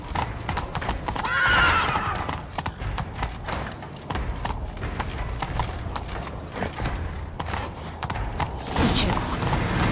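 Horse hooves clip-clop steadily in The Witcher 3 video game, with a whinny rising early on amid jangling tack and creaking, continuous and fairly close throughout.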